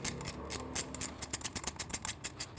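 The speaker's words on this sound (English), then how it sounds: "Your 8mm socket. Start tightening that up." An 8mm socket ratchet tightening a bolt while installing an exhaust system on a Triumph Street motorcycle gives a rapid run of crisp ratcheting clicks, steady and close, speeding up toward the end with no voices.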